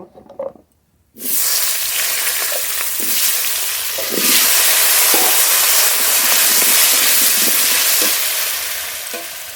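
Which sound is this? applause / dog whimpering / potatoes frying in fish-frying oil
potatoes frying in fish-frying oil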